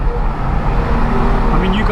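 A BMW M2 in Sport Plus with its loud exhaust mode on, driven on city roads with the windows down, gives off a steady, close engine and exhaust drone that rises slightly in pitch across the short stretch.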